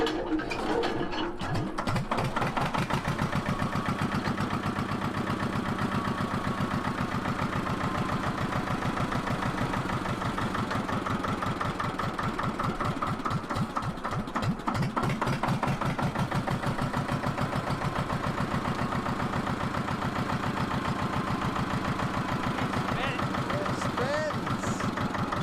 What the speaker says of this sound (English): now we're just about to test it and fire the engine up again.